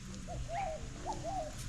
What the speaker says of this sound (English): They're weird little birds, really.